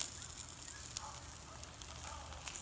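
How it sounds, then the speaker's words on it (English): Chicken sears on a StōK gas grill, a steady soft hiss and crackle of sizzling meat over a flame with a low background rumble, continuous throughout. "We're gonna sear that side just like that."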